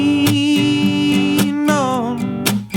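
Rhythm guitar strums a song's chorus, with sustained chords punctuated by sharp percussive hits at a steady pulse. It sounds close and clear, played alone with no talking.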